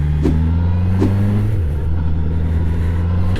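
A QJ Motor SRK 800 roadster's inline four-cylinder engine hums at a steady, loud drone while riding, its pitch shifting slightly as the revs change, with wind rushing over it.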